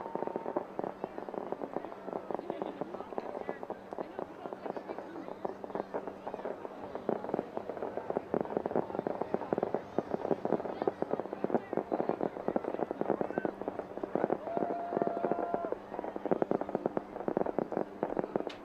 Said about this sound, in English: showing us the fireworks up there